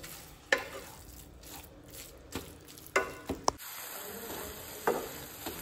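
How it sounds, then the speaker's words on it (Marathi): Grated carrots frying in a pan on a low flame for a jaggery carrot halwa: quiet, soft sizzling broken by a few scraping stir strokes and light clicks of the spatula against the pan, with no talking. "गाजर न्ही एक 3 ते 4 मिनटां हांवें बरें हितून तळसून घेतलां"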